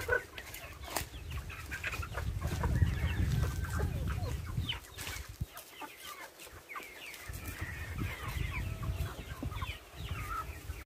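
A flock of chickens let out of their coop clucks and chatters steadily and close by, a busy overlapping chorus of cackles with a brief lull midway before the clucking resumes.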